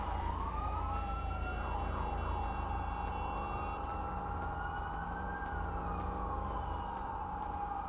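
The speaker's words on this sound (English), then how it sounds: "God, there's so many sirens." Several sirens in a GTA V police roleplay wail at once, rising and falling in overlapping tones over a low traffic rumble, moderately distant and continuous.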